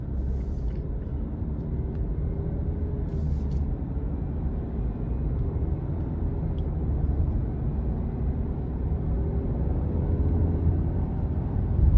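Cabin of a 2023 Cadillac CT5 Sport with the 2.0-litre turbo engine accelerating gently, a steady low rumble of engine and road noise that builds slightly toward the end, heard from inside with no talk.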